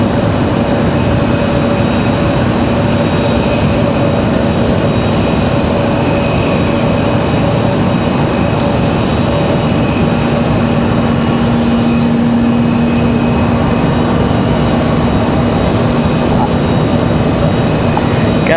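Frontier Airlines flight 1517 from Philadelphia, an Airbus A320 jet at Raleigh Durham airport, gives a loud, steady engine roar with a whining tone that holds throughout.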